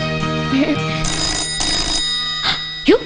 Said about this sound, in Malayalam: ആരേലോ ഫോൺ എടുക്ക്